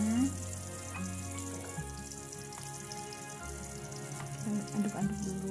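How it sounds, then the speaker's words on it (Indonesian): Ground spice paste sautéing in a pan for nasi goreng terasi, a low, steady sizzle with occasional clicks and scrapes of stirring, fairly quiet and close. "Kalau bumbunya udah halus, terus bumbu tadi kita tumis dulu"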